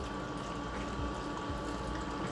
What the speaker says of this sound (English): Now we will add our pasta water to this as well if we need it.